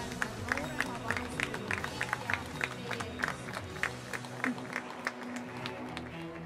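A crowd claps steadily for junior handler competition winners at a dog show, a dense patter of applause with a voice speaking over it through the room.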